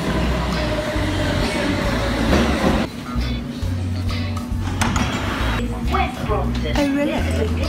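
A London Underground tube train rumbles and clatters loudly close by, with steady low mechanical noise and a few high wheel squeals near the end. People talk over it.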